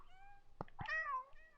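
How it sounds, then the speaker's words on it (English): A cat meows in the video game Stray, the call coming through a speaker: one rising, drawn-out meow with a couple of brief clicks just before it, set against a low steady background hum. "You can hear the meowing on the speaker"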